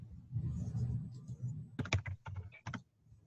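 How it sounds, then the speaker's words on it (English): Keystrokes on a computer keyboard during a Zoom call: a quick burst of about eight sharp clicks in an irregular rhythm, fairly close, after a stretch of low background hum. "typing in her question down in the chat box."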